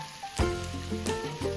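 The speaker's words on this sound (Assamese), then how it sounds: "কম পৰিমাণে হালধি আৰু ৰং জলকীয়া অলপ দি মই মাংসটো তেলত দি দিছোঁ" Duck meat frying in oil with turmeric and chili, heard as a close hiss and sizzle broken by a few louder spattering bursts over a short stretch.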